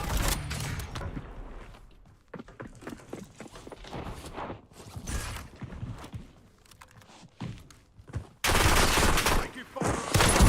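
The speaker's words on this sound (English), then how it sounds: "Taking fire." Bursts of rapid automatic gunfire in Call of Duty Warzone on the Verdansk map, loud and close, broken by pauses, with a player's voice talking between bursts.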